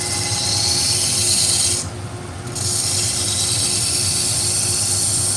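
A knife is sharpened freehand on a stone, with a steady, close scraping rasp that runs almost continuously and breaks off briefly in the middle before resuming.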